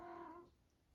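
A house cat gives one short, tonal meow in a quiet indoor room, and the sound fades after about half a second.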